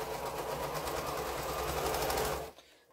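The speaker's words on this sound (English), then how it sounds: "So I'm going to sew down this way so that I can flip that over there." A sewing machine runs steadily, stitching quilt fabric in a close, continuous whir that stops abruptly just before the end.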